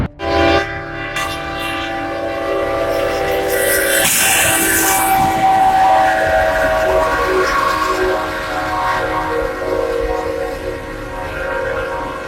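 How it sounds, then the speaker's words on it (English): A train sounds a loud, sustained horn as it rushes in, then smashes into a car carrier with a sudden crunching impact, followed by continued rumbling and grinding of rail cars. "Train smashes into car carrier."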